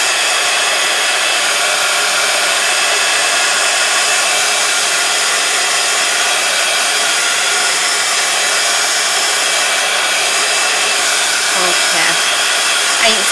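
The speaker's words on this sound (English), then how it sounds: "I've actually unplugged my heat gun. So, okay, get that nice and dry." A heat gun blows steadily and loudly while drying a journal page, a continuous close whoosh that holds without a break for the whole stretch.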